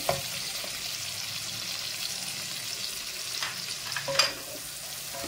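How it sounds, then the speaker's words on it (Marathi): Masala paste of coriander and chilli fries in a pan for an Agri prawn masala, a continuous close sizzle broken by scraping stirs of a spoon, with no talking. "वाटण टाकूया, वाटण देखील छान परतून घेऊया।"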